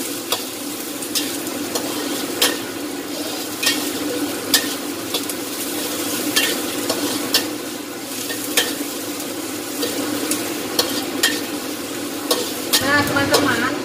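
Chopped onion and garlic sizzle steadily in a hot pan, with regular scraping strokes of a spatula stirring them, close and fairly loud, with no talking.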